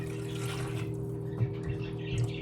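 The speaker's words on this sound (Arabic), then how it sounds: "ومع الزبدة راح نحط 1 كب من المي." A cup of water is poured over butter in a pan while making churros, giving a soft steady trickle with a few gentle splashes beneath a constant low background hum.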